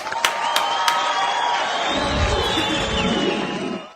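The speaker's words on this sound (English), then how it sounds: "Let's give him a round of applause." A crowd cheers and claps, a steady wash of noise with a few sharp whistles cutting through near the start.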